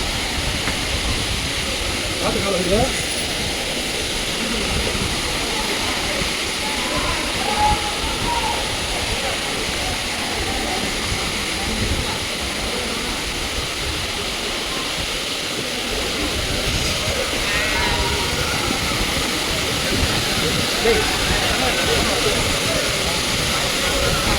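Agaya Gangai waterfall in the Kolli Hills roaring as a constant heavy wash of water, loud and steady, with voices faintly under it at times.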